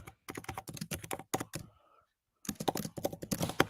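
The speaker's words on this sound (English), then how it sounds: "I'm typing again. I can hear." Laptop keys are tapped in quick bursts of close, crisp clicks, with a short pause in the middle before the rapid typing resumes.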